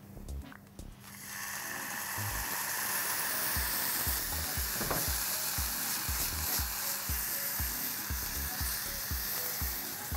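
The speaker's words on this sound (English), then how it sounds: "to enhance the flavor little more, I'm going to add little white wine" Mirepoix sizzles steadily in a hot pan as white wine goes in for a chicken cannelloni sauce, a loud, continuous frying hiss with scattered clicks of stirring throughout.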